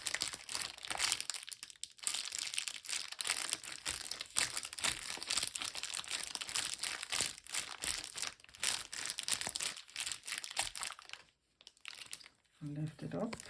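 Aluminum foil handled and crinkled during gel printing with coffee bags, a steady crackly rustle running almost continuously with brief pauses, close by and moderately loud.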